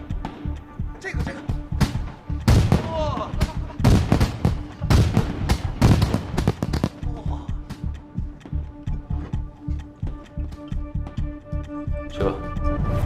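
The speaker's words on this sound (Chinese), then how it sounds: "开始放烟花了" Fireworks go off during a night celebration, a rapid series of loud, close bangs and crackling bursts that repeat throughout, with voices talking and an excited exclamation over them.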